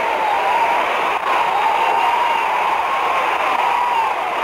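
A wrestling crowd roaring and cheering in an arena during a Jerry Lawler versus Bobo Brazil match, a steady, loud wash of voices that holds without break.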